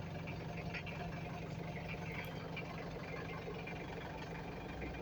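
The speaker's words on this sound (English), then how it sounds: "for a few minutes, you will crank the engine" A diesel engine heard after its glow plugs are heated, giving a steady, dense drone that holds at an even level throughout, with no voices.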